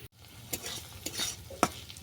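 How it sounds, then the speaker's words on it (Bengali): Vegetables stir-fried in a pan for fish fried rice, close sizzling broken by quick scraping and tapping strokes of a spatula, a few sharp clacks among them. "সবজি আমার ভাজা হয়ে গেছে,"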